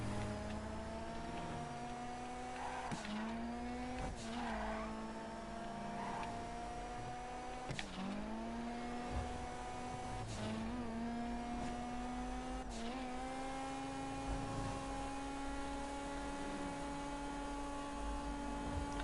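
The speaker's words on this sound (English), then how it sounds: "And I told you this car is fast." A fast car in a video game races at full speed, its engine droning loud and steady, with pitch dipping and climbing again at each of several gear shifts over the run.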